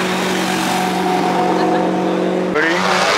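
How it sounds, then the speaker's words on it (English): A car rolls past at a cars-and-coffee track event with pit and paddock, its engine droning steadily before a sharp tire squeal cuts in near the end, loud and close. "Tires sound like they're farting."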